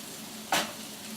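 Five egg whites hit a hot pan with a sudden bright sizzle that swells sharply, then settles into a steady frying hiss.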